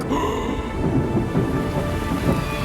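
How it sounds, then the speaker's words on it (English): Steady rain pours with rolling thunder throughout a stormy scene in the Van-Pires cartoon, a loud, continuous downpour with low rumbles and no speech. "it starts to rain"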